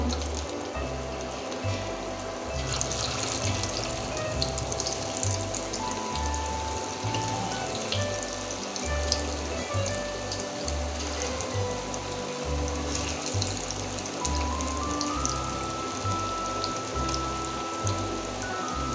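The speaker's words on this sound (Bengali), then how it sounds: "এখানে আছে এই বাকি চিকেনগুলো আমি ছেড়ে দিচ্ছি তেলে।" Chicken chop pieces frying in hot oil, a dense, steady crackling sizzle that runs unbroken throughout, with a faint repeating low thump underneath.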